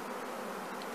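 Honeybees, a mix of Carniolan and Italian, drone inside an open hive around the queen, a dense continuous buzz heard up close and fairly quiet.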